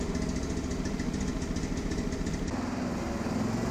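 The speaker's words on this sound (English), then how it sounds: "Power comes from a 13 horsepower air-cooled petrol engine" A 13-horsepower air-cooled petrol engine in a large RC scale truck runs steadily nearby, a continuous rough chugging drone with no talking.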